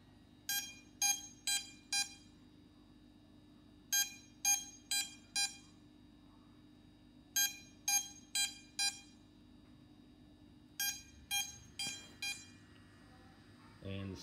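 Electronic beeping from a DJI drone's ESCs (motor speed controllers), sounding as a find-my-drone alert in repeating groups of four sharp tones separated by pauses, over a low background hum; fairly faint and close.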